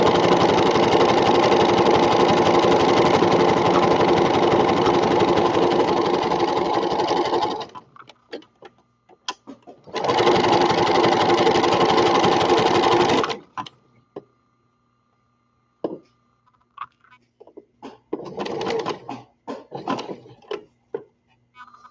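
A serger overlock machine stitching a rounded edge on fabric for a baby drool scarf, running in two loud steady bursts of several seconds each, separated by pauses, then brief lighter handling and clicks.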